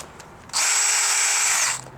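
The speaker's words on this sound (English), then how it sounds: "I use a drill motor" A cordless drill spins at steady high speed for just over a second while lowering a Lexus GX460 spare tire, starting and stopping sharply against a quiet background.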